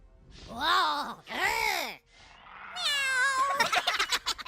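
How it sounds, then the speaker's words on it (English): A cat gives two drawn-out, rising and falling meows up close, followed by a higher, wavering cry and some rustling. "Meow!"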